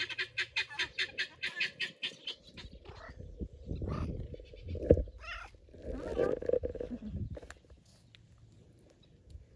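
Pearl guinea fowl in a garden give a rapid run of rhythmic, harsh calls, then scattered squawks and clucks with some background noise, fairly close.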